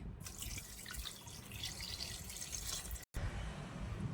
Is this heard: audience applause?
no